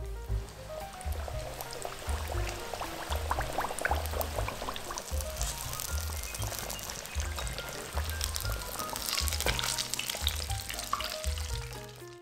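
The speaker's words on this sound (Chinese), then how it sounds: "炸至两面金黄。" Meat patties with glass noodle filling deep-frying in oil in a home stir-fry wok, a dense continuous bubbling sizzle with low rhythmic thumps, steady and close with no talk.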